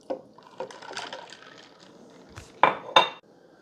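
A spoon stirs iced coffee with almond milk in a glass, giving a soft swirl followed by two sharp clinks against the glass near the end.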